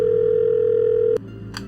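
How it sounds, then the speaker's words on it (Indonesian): An office telephone line gives one steady electronic tone for just over a second before it abruptly cuts off, followed by a faint click and a soft rustle. "Ada telepon dari Putri di line 2"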